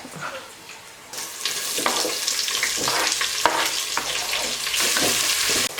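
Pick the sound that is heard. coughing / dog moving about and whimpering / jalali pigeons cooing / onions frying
onions frying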